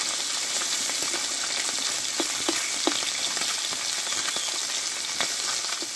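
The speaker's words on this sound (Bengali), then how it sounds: "এই মাছগুলোকে আমি ভেজে নেব লবণ হলুদ মাখিয়ে" Small pieces of fish rubbed with salt and turmeric frying in a little oil, giving a steady bright crackling sizzle with a few muffled taps from the utensil, nearby and continuous.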